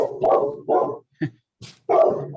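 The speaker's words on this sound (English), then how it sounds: "Too many dogs." Dogs bark at home in bursts of sharp, close barks with short pauses between them, loud and clear with no talking over them.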